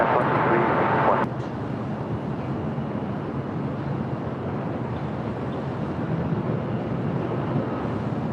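An American airliner rolls onto runway 24 right at LAX, its engines a broad, steady roar mixed with wind buffeting; a sharp radio-like burst opens the first second before the rumble settles.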